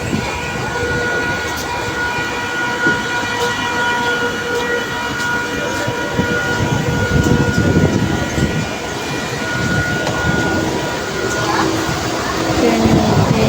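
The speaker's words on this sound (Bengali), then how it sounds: "লাকি যে আজকে টাইম ট্রেনটা ঢুকেছে" A commuter train pulls into a station, its rumbling wheels and rail clatter steady and fairly loud throughout, with a faint horn and people talking nearby over the noise.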